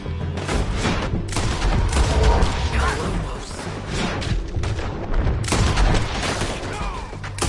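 A cowboy shootout in a town fills the air with heavy, continuous gunfire and booming reports, loud and densely layered throughout, with shouted voices under the volleys.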